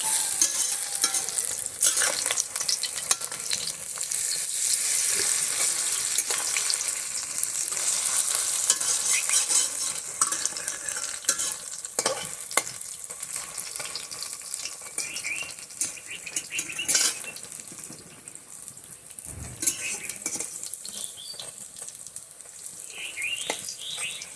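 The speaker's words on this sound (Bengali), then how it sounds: "এখন চলো একটা একটা করে পাল্টিয়ে দেই, ওরা একটার সাথে একটা লেগে গেছে।" Pumpkin flower pakoras fry in hot oil in a pan and are turned over one by one, a steady loud sizzle and crackle with occasional scrapes and clinks from the turning utensil.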